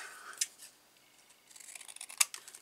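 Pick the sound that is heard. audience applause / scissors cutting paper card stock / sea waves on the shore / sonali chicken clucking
scissors cutting paper card stock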